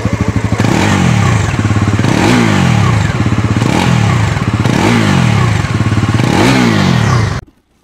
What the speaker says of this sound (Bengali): আমরা বাইকের এক্সস্টের সাউন্ডটা যদি একটু শোনাই